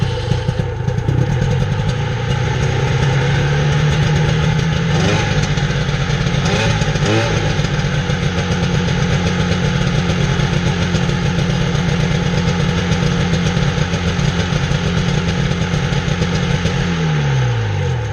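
A snowmobile engine runs loud and close just after starting, holding a steady buzzing idle for most of the time before the pitch drops away near the end.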